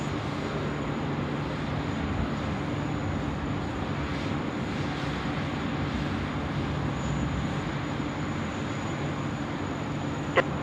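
A Jetstar airliner taxis at Sydney Airport in wet weather, a steady low engine drone holding at constant loudness from a moderate distance, with no talk.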